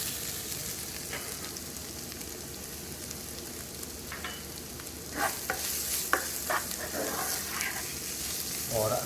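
Cumin seeds sizzle softly in a hot pan during cooking of zeera chicken, with a low steady frying hiss that picks up scraping stirring strokes in the second half, close and fairly quiet.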